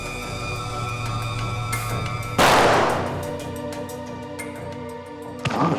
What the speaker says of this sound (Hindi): गोलियां तो लुटेरे ने अंधाधुंध चलाई है सर।